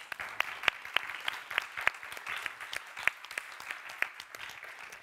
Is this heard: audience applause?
yes